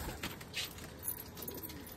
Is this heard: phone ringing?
no